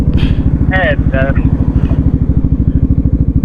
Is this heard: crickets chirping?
no